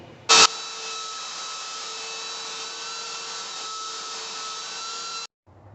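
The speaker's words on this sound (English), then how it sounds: "It means I gotta sand out these high spots and check it all again." Power sander grinding down high spots on a mobile home floor, a steady loud whirring hum after a brief sharp knock, running continuously then cutting off abruptly.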